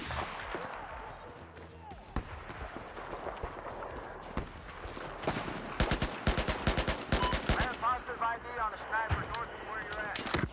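Gunfire in the Call of Duty Warzone video game, a series of sharp cracking shots in rapid bursts later on, mixed with game noise and people talking throughout.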